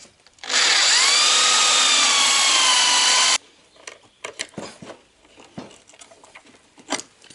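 Power drill boring holes in a Citroën Traction 11B car door, one loud steady whine of about three seconds with pitch sliding, followed by quieter scattered clicks and rubbing.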